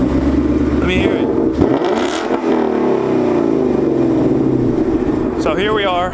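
Close, loud revving from a 2018 Mustang GT fitted with a Corsa Sport catback exhaust, a sustained throaty drone with a couple of sharper throttle blips, while a voice speaks over it.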